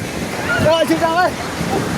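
The flooded Trishuli river rushes in a loud, dense roar with wind buffeting the microphone, while a voice shouts over the water.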